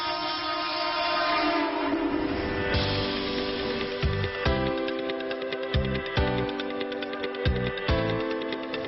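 A Mumbai local train rumbles past with its horn sounding in long, loud blasts that repeat as it moves, over steady rail clatter, with no talk.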